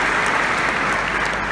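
Loud, dense applause from an audience at a motivational speech, a steady wash of clapping that holds at full strength throughout.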